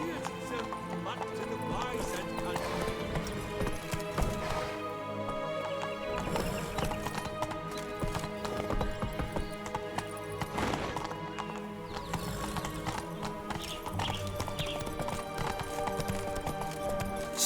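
Roach, Geralt's horse in The Witcher 3: Blood and Wine, gallops with a steady clip-clop of hooves and occasional whinnies over game music, while a voice calls out commands.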